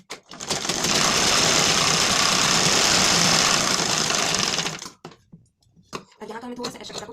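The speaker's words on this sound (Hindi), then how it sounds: "गैप करके हम एक और सिलाई लगा लेते हैं।" Sewing machine running a loud, steady stitching pass on a blouse lining for several seconds, a dense motor whir with rapid needle chatter, then stopping abruptly into quiet handling noises.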